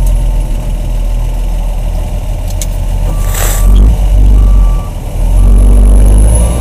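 A dump truck reverses with a steady backup alarm beeping near and loud over a low idling diesel engine, in a snowy lot during plowing.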